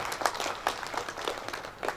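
Audience applause at a builders' conference opening ceremony: a steady wash of many hands clapping together in a large room, continuous and moderately loud throughout with no voices over it.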